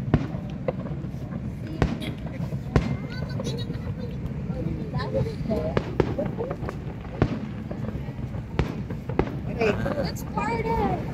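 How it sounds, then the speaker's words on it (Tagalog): Scattered sharp pops and bangs of fireworks burst at irregular intervals at a display on Waikiki Beach, over a busy crowd with people chatting and calling out throughout. "That's the fireworks."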